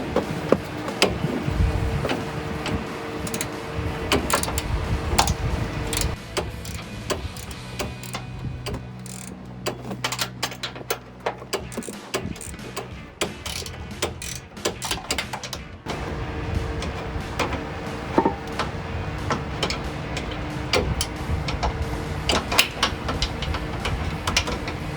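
Wrench work on an upper A-arm bolt of a 2009-2020 Ford F-150, a steady run of close metallic clicks and ticks over a long stretch, moderately loud with uneven rhythm.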